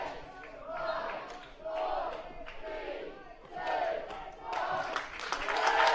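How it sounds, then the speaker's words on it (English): A field hockey crowd at a men's international match chants a countdown in rhythmic bursts of massed voices, with swells rising and falling at a distance, plus a commentator talking between them. "The countdown is on in the crowd."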